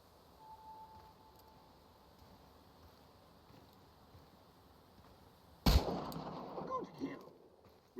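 Sudden loud gunshot crack followed by a few fainter echoing reports while hunting small game in the video game Chernobylite, after a long quiet stretch of low ambient noise.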